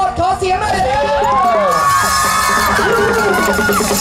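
A crowd of supporters at a lizard-into-hole competition cheers, shouts and whoops, with loud high children's voices rising and falling together, close and sustained throughout.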